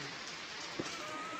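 Rain falls steadily on a village, a dense, even hiss of drops that runs throughout at moderate level, broken by one brief closer thump near the middle.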